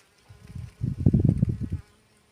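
Close insect buzzing, bees and flies humming in overlapping drones around flowering garden herbs such as calendula, that swell louder midway, then fade out to quiet.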